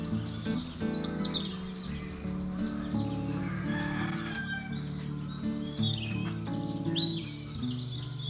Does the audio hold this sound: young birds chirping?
yes